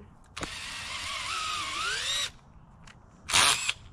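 Power drill boring into a tree stump, a single sustained high whining burst of about two seconds, then a shorter harsh second burst, close and loud with no voices.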